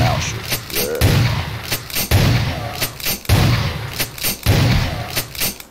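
Gunfire in the vampire video game VTM The Final Nights, a series of loud, close, sharp shots spaced about a second apart, each with a booming low thump, over game ambience.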